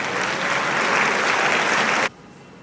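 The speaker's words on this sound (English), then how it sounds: "Sir N.V. Potel, please welcome him with a big round of applause" An audience at a school silver jubilee celebration applauds loudly as the honoree comes on stage, a dense burst of steady clapping that stops abruptly near the end.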